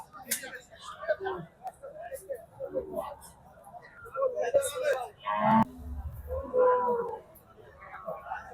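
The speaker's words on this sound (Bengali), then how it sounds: "বেশ সুন্দর একটি গরু।" A cow moos several times at a busy rural cattle market, the low lowing calls rising over nearby people talking and crowd bustle.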